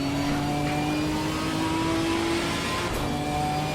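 A Ginetta GT4 race car at Laguna Seca in Assetto Corsa Competizione gives a loud, steady engine whine that holds its pitch and climbs slightly before a brief shift near the end, with no talking.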